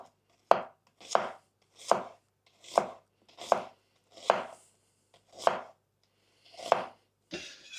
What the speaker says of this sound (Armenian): Հաջորդը կտրատում ենք սոխը։